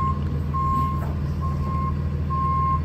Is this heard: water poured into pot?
no